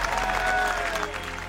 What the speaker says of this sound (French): Applaudissements pour les déménageurs